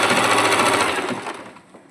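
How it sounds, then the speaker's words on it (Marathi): Sewing machine stitching the lining of a blouse, a loud, steady rapid mechanical whir that slows and fades toward the end. "आता आपण शिलाई करून घेणार आहे"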